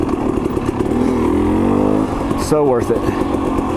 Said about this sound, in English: And this bike right now, oh my gosh, it is running absolutely freaking incredible.